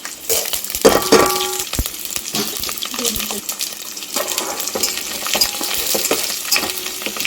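Cumin seeds, garlic and dal tempering crackle and sizzle in a pan, a steady close frying hiss punctuated by sharp clinks and stirring clatter throughout.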